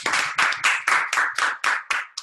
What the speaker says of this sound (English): Let's give a clap to everybody who has done well